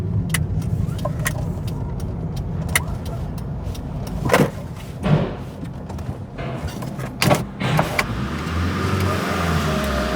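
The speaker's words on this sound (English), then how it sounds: "Let's get the car on the ramp, tell Neil the mileage, and get it plugged i" A Proton Satria car is driven onto an MOT test ramp, its engine a low steady rumble under scattered knocks and clunks, with a deeper rolling rumble near the end.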